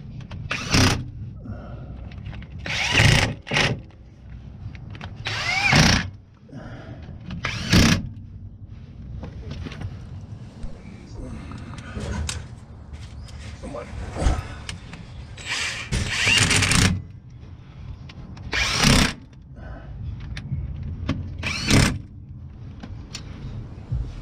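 A power tool runs in short bursts while driving bolts on a Jeep differential cover in a garage, sharp loud whirs separated by quiet gaps, roughly a dozen spurts spread irregularly.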